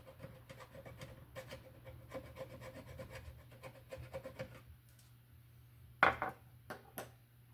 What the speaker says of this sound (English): we're going to scrape some of the paint off here so we get a nice connection for our ground